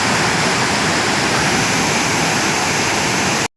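Water gushing from an opened dam shutter after rain, a loud, steady broadband roar of rushing water filling the whole stretch without a break until it cuts off abruptly at the end.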